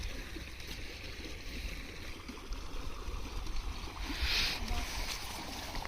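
Fast irrigation water rushes through a channel in a farm field, a steady broad outdoor roar that holds level throughout, with some light wind noise.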